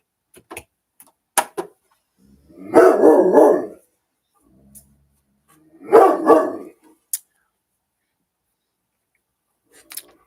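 A dog barks at the mailman in two distinct outbursts of several quick barks each, close and fairly loud, with quiet household clicks and brief taps between them.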